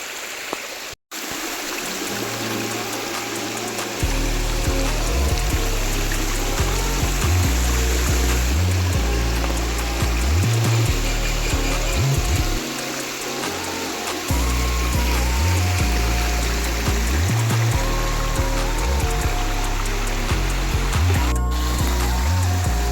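Water pours down Arbi Falls waterfall near Manipal in a continuous rushing hiss that holds steady throughout, with a low rhythmic thumping layered underneath.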